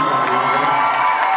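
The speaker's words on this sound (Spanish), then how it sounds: "Te tengo que interrumpir, una belleza, un aplauso para mí, Mirna." Audience at a televised telethon event cheering and applauding, a loud continuous wash of crowd noise and whoops filling the whole moment.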